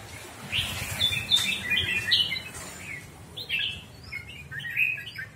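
A male red-whiskered bulbul from Hóc Môn, kept free-flying, sings a run of bright, warbling chirps and whistled phrases in short bursts. The song carries clearly and at moderate loudness over a low background hum, with no talking.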